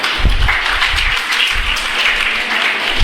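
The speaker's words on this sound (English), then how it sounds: "give her a clap" Engineering and MBA students in a classroom clap for a classmate, a loud, close burst of steady group applause with distinct hand strikes.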